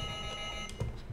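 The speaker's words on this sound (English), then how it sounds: "Oh, there's an alarm. Sorry for the alarm." An alarm going off in a room, a steady electronic tone sounding throughout at a modest level, with no talking over it.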